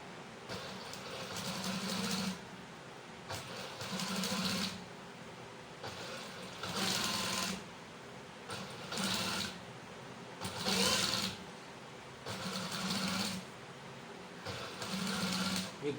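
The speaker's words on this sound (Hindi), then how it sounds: "ऐसे मिलाकर ये तीनों हिस्से एक ही दफ़ा से आपने सिलाई करने हैं" A tailor's sewing machine stitches three kameez panels together at the collar curve, running in short whirring bursts of a second or two, separated by brief pauses, repeated about eight times, close and steady.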